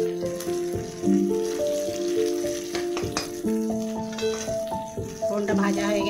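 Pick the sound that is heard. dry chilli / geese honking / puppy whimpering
dry chilli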